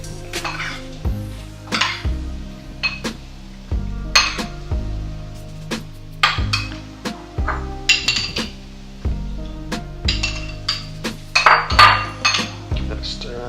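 A spoon stirring chopped ceviche ingredients with lime juice in a bowl, giving repeated clinks and scrapes against the bowl in an uneven rhythm, close and fairly loud with no talking.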